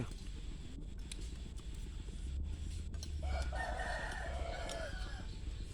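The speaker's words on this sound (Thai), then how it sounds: "นี่เสียงไก่" A rooster crows once, a long drawn-out call rising over steady low background rumble, fairly close.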